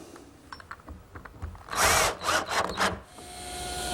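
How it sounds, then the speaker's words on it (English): A power drill drives 1-inch screws into pre-drilled wood on a woodworking jig, with two or three short whirring bursts in the middle of the clip and quieter handling noise before and after. "I'll permanently affix it with some screws."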